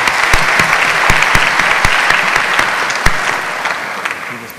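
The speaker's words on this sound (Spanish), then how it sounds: "Un aplauso." Audience applause fills the room at the opening of a scientific conference on metabolic syndrome, a steady dense wash of clapping with sharper individual claps poking through, close and loud, fading slightly toward the end.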